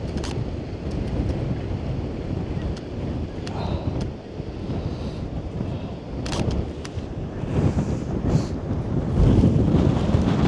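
Strong gusting wind buffets the microphone at Bempton Cliffs, rumbling in uneven bursts, rising louder toward the end, over a faint wash of surf.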